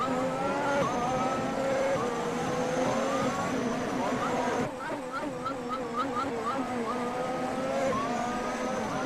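Formula race cars roar through a racing video game at Fuji Speedway, loud engines climbing through rising gear pitches with several upshifts, while commentators talk over the engine noise.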